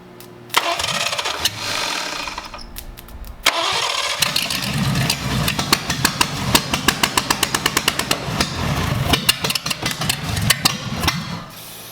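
Abandoned Cadillac 331 hot rod engine cranking repeatedly without catching, two close bursts of rapid rhythmic starter chugging, the second long run of regular pulses, no voices over it.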